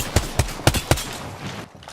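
Gunfire in the video game Apex Legends, four sharp shots spaced about a quarter second apart, loud and close, then a brief lull of game ambience.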